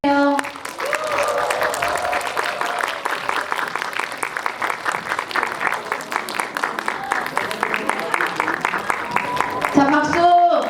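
Audience applause fills a cinema during a film's opening-week stage greeting, steady loud clapping from a crowd for about ten seconds, with a voice briefly heard near the end.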